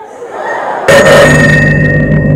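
A phone rings with an incoming call, a sudden loud electronic ringtone with sustained bright tones starting partway through after a quieter room background, with no talking over it.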